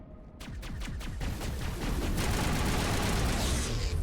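Rapid gunfire erupts in a Mass Effect firefight, a dense stream of close, loud automatic shots that starts abruptly and continues without a break.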